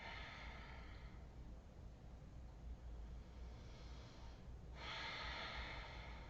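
Deep, slow breathing during a yoga pose, with a long airy exhale fading into a brief quiet gap and then another strong breath, close and soft with no speech.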